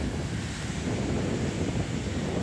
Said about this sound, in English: I watch the waves for a while